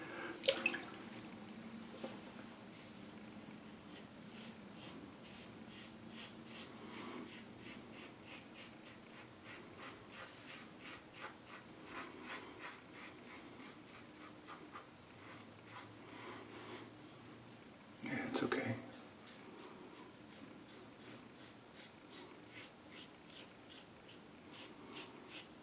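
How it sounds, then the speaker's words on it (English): Razor scraping across the neck during a shave, a steady series of soft, close rasping strokes with one louder pass partway through. "Now you can hear the scraping."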